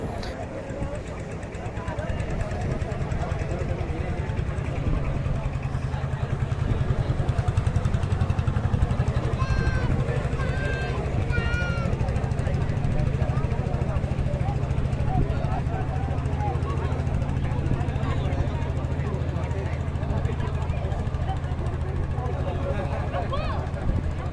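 Boat engines drone steadily on the flooded Padma river at Rajshahi, a low continuous motor rumble that swells slightly as a boat passes, with someone talking over it throughout.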